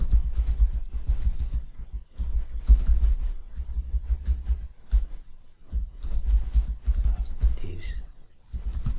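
Fast computer keyboard typing with a steady run of clicks and short pauses, recorded in a classroom coding lesson using Scratch, with low murmuring underneath.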